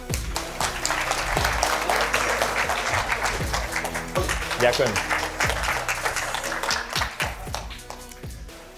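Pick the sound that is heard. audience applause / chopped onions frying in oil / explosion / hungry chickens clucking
audience applause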